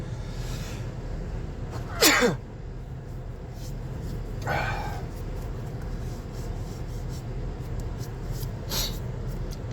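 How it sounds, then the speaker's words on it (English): A single sharp sneeze bursts out near the start, followed later by a couple of softer sniffs or rubbing noises in a quiet room. "I'm going to sneeze."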